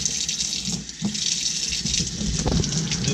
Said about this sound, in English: Lukewarm water going.